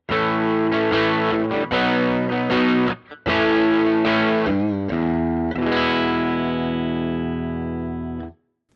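Heavily distorted electric guitar through a Fractal amp simulator, into 4x10 Bassman cab impulse responses with a 57 mic, plays chunky chords and short riffs, then lets a final chord ring out and fade before cutting off.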